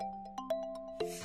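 A mobile phone rings with a short melodic electronic tone, a few chiming notes at a quiet level, with a rustle or knock near the end.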